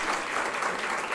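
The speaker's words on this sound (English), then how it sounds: "Give them a great round of applause." An audience applauds a choir, a steady wash of many hands clapping at once, full and continuous through the short moment.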